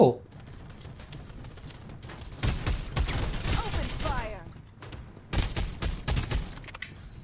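Automatic gunfire from a PC match of the battle royale game Farlight 84, with rapid crackling bursts in two clusters after a quieter opening, loud and close over a steady game background with a low hum.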